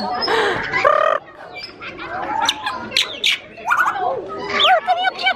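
Birds at the Zurich zoo give chirps, squawks and tweets in a busy mix, loud and close, with a people's voice briefly audible near the start.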